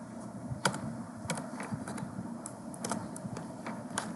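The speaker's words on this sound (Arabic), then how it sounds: "ندخل على التيرمينال، بعد كده نكتب امر اف config." Keystrokes on a computer keyboard as a command is entered in a terminal, a quiet irregular run of light clicks with a few sharper taps, close and alone.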